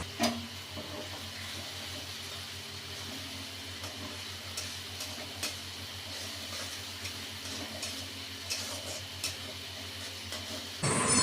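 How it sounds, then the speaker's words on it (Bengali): Ginger-garlic paste sizzles steadily in hot oil as masala is fried for a goat meat curry, a continuous close hiss with faint crackles and no talk. "পেস্টটা দিয়ে আমি ভালো করে কষিয়ে নেব।"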